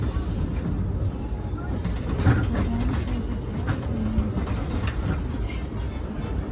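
A Disneyland Railroad train rolls steadily along its track, giving a continuous low rumble with occasional rail clacks while a voice talks faintly over it.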